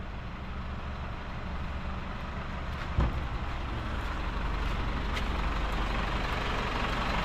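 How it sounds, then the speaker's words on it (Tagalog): A Birain Water delivery truck idles nearby in a steady, low diesel drone, with a single sharp knock partway through and the engine holding level throughout. "Yun na yung truck ng Birain Water."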